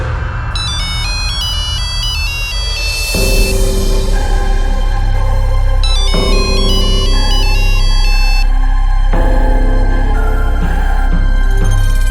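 A phone ringtone plays a repeating electronic melody, loud and close, cycling through several phrases over a steady background tone with no voices.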